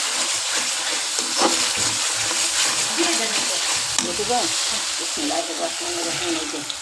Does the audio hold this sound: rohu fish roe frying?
yes